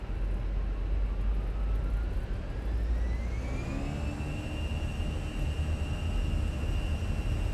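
Airbus A320 jet engines spooling up for takeoff in Microsoft Flight Simulator, a rising whine that climbs in pitch and then holds at a steady high tone over a constant low roar.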